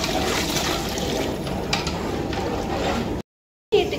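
Water is poured from a glass into rice for home-made chicken pulao, giving a steady splashing rush that breaks off briefly before a short resumption.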